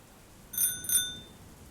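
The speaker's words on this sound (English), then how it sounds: "Through the rain and thunder, I could hear that old bike bell from a mile away." An old bicycle bell rings twice in quick succession, two bright metallic dings with a short ringing decay, fairly clear over a quiet background.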